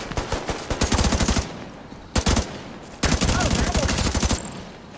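Rapid automatic gunfire in the shooter game Division 2, with game audio out of sync with the action: loud bursts of rattling shots broken by brief pauses, then a longer sustained burst.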